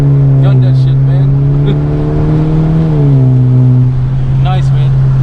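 A 2018 Honda Civic Hatchback Sport fitted with a PRL Cobra intake accelerates hard, its steady engine drone climbing and holding loud and close, with a brief dip in pitch midway as it keeps pulling.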